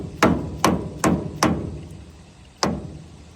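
Hammer blows driving a rebuilt steering gear box onto the input shaft of a Ford F600 truck, four quick sharp metallic strikes, a pause, then one more, close and loud with no talk.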